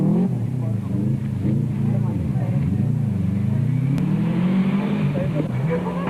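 A big four-wheel drive rally car's engine labours and revs through a tight corner on a forest stage, loud and continuous with rising and falling pitch, under a commentator's voice.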